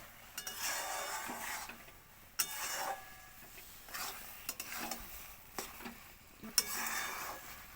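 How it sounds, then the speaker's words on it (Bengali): Spice masala sautéed in a kadai, a spatula scraping and stirring in repeated strokes over a soft sizzle, with knocks against the pan close up. "খুব সুন্দরভাবে আমি এটাকে কষাচ্ছি"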